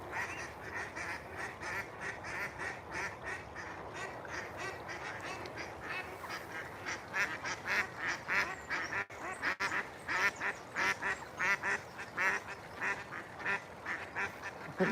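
Ducks and swans gather along a trail, hoping for bread, with close, loud quacking and honking that repeats in quick, overlapping bursts throughout.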